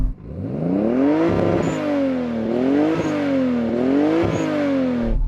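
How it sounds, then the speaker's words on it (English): Revving Toyota Supra (80-series) sports car engine, loud and close, rising in three repeated blips to a high-pitched whine and settling between each, with no talk. "And now the Toyota Supra."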